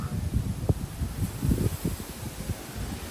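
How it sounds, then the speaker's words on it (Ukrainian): Strong wind buffets and rumbles in low gusts, with a steady hiss behind it and no voices. "Навіть якийсь сильний вітер там."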